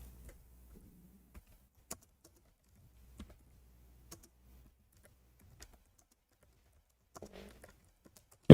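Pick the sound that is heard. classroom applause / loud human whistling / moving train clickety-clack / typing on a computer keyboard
typing on a computer keyboard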